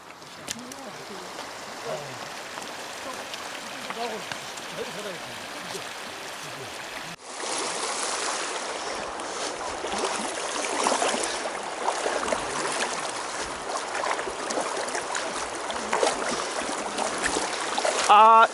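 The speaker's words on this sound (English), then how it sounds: "The streams are getting wider." A stream by the Khad river in Mongolia flows steadily, its continuous rushing wash growing louder partway through, while voices speak faintly underneath.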